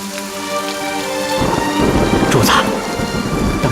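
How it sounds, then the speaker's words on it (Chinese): Heavy rain falls in a steady wash while deep thunder rolls in and rumbles loudly, after a voice speaks briefly at the start. "主子，当心着凉，下雨了。"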